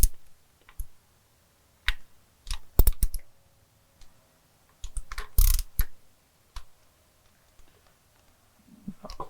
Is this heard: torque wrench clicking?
yes